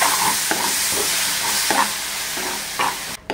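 Chicken masala frying in a pan with tomato puree just stirred in, giving a steady sizzle with periodic scraping stir strokes about every second, close and fairly loud, no talking.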